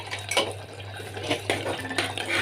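A spoon scrapes and clinks against a metal pot while koshari spices are stirred, with a few distinct knocks over soft sizzling and a low steady hum, with no voices.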